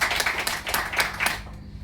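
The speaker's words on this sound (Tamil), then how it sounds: "நம்ம எனர்ஜியை ஏத்திக்கிறதுக்காக ஒரு பலத்தை கைதட்டு கொடுத்துடலாம்" A Tamil-speaking audience at an evening gathering gives a short burst of clapping, dense and moderately loud, with rhythmic peaks before fading out near the end.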